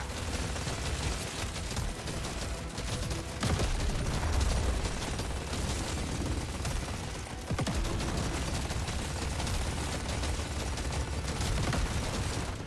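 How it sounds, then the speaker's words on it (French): Dense, continuous barrage of explosions and gunfire-like bursts surrounds the player in the video game Deep Rock Galactic: Survivor, a steady loud roar of blasts and mechanical clatter with no pauses. "Il y a trop d'explosions là autour de moi"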